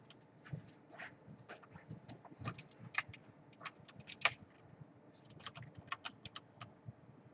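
Light typing on a computer keyboard while writing code, a steady run of soft, irregular key clicks at close range, with faint room noise beneath and no voices.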